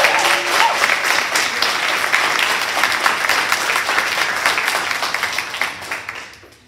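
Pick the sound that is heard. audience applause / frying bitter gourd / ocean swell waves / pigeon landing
audience applause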